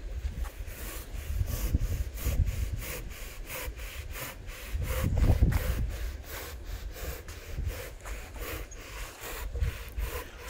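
A saw cuts through a basalt mineral wool slab in a regular back-and-forth rhythm of rasping strokes, close by, with a few heavier pushes standing out and no talking.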